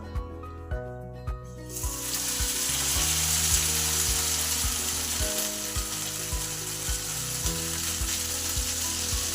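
A mixture of Maggi noodles hits a hot pan and sizzles loudly, a steady bright frying hiss that holds for several seconds, with a rhythmic clicking or tapping running underneath.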